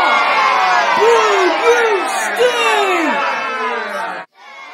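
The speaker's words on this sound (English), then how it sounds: "Everybody boo at him!" A crowd of animated characters boos loudly and continuously, with a few individual voices rising and falling above the din before it cuts off abruptly near the end.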